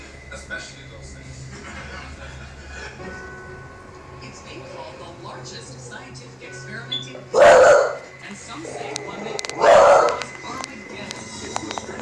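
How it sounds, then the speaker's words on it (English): Dog barking at something close by, two loud sharp barks a couple of seconds apart over a quiet, low background hum. "The dog's attention then changes direction, barking at something a lot closer."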